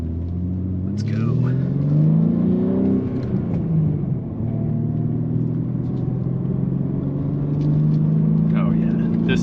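A 2024 BMW M3 with a six-speed manual gearbox accelerates hard on a rough road, its engine note climbing through a gear, dropping at a shift, then rising again under a steady in-cabin rumble while someone talks.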